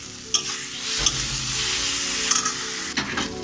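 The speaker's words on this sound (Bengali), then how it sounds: "দিয়ে আমি ভালো করে মশলাগুলোকে কষিয়ে নেব। সরষে জিরে ধনে গোলমরিচের গুঁড়ো দিচ্ছি।" Ground mustard, cumin, coriander and pepper fry in a pan with a dense, steady sizzle, broken by a few sharp stirring scrapes and knocks, with no speech.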